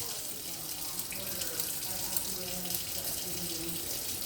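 Tap water runs steadily into a kitchen sink while raw pork chops are rinsed under it, a continuous close splashing rush that barely changes, with no talk.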